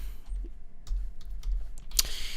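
Scattered clicks of keys on a computer keyboard, a few light taps spread out with one sharper press near the end, close and fairly quiet over a low hum.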